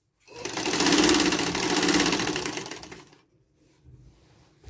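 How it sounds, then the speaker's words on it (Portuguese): A sewing machine stitching a fine topstitch seam on a fabric tote bag runs in one steady, close whirring burst for about three seconds, then stops, leaving faint handling noise. "Aqui na máquina, você vai olhando bem aonde você riscou e vai passando uma costura."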